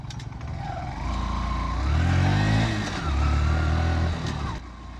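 A Honda Shine 100 DX motorcycle engine hums while riding, revving up and easing off through gear changes, close and steady with wind noise.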